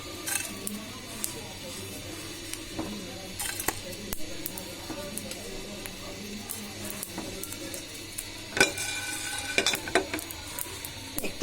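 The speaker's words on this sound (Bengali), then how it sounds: "এবার দিচ্ছি গোলমরিচ এলাচ এবং দারচিনি এটা আমি কিছুক্ষণ ভেজে নেব" Black pepper, cardamom and cinnamon frying in a pan give a steady low sizzle, broken by scattered metal clinks and scrapes that grow louder and busier toward the end.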